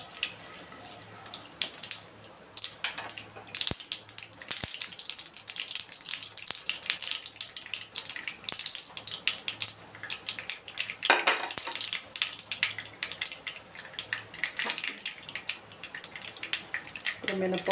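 Tempering for pulihora frying in a pan, a steady broadband sizzle and crackle running throughout with scattered pops and clicks, close and fairly loud, with faint speech in places.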